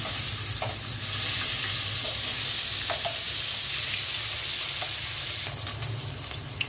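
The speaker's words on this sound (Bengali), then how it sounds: "মাছগুলো উল্টে দিচ্ছি।" Fish frying in hot oil after being turned in the pan, a steady loud sizzle with a few light clinks and scrapes, no voices, while a Bengali fish curry with eggplant, radish and potato is cooked.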